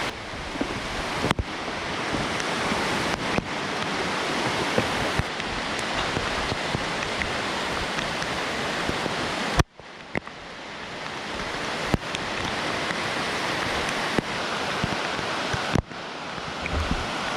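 Heavy rain at Pelisan waterfall in Bali, a loud, continuous broadband roar of falling water, broken by a few sharp bumps and clicks, with no voices.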